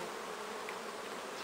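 Honeybees fly around the entrance of a hive, a faint, continuous buzzing hum with no pauses, heard alone and steady throughout.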